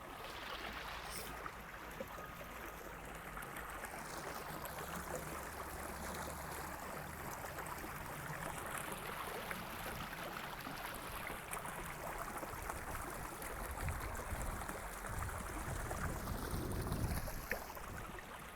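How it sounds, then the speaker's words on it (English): Flowing water rushes steadily outdoors in a continuous broad wash, moderately faint and unchanging throughout, with no voices. "I want to let you listen to this water real quick"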